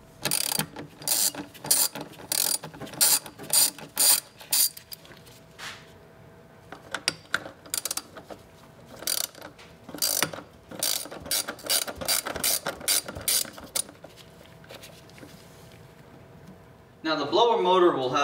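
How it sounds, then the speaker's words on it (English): Ratchet wrench removing the blower motor bolts on a Ford Bronco or F150, with rapid clicking bursts repeated in quick sets, close and crisp, broken by short pauses and light tool handling, and a voice briefly at the end. "Next, remove all of the blower motor bolts."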